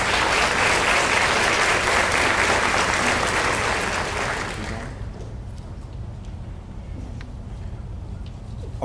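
Loud, dense applause from an audience at a high school senior awards ceremony honoring students, sustained for several seconds before tapering off to scattered claps and room noise.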